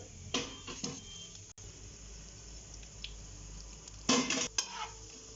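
Dry fruits frying and being stirred in a pan over a low flame for rava ladoo, with short bursts of spatula scraping against the pan near the start and end over a faint background hum.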